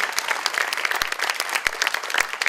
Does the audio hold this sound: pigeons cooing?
no